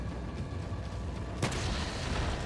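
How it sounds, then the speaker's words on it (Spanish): Explosion in the Resident Evil 4 video game with the Life In Hell mod: a sudden sharp blast bursts over steady game background noise, then leaves a broad lingering rumble. "ha pillado la explosión bien"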